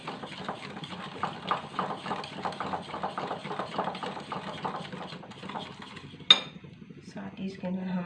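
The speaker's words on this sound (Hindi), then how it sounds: "इसको हम अच्छी तरह मिक्स कर लेंगे" A spoon mixes sugar and oil in a bowl for an eggless banana tea cake, giving soft repeated clinks and scrapes at an uneven rhythm. One sharp clink stands out near the end, and quieter sounds follow.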